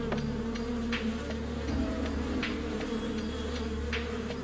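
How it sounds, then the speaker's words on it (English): A swarm of bees buzzing in a continuous droning hum, close and steady, with individual insects flitting past now and then. "the bees would need to start stinging to make the other bees aggressive"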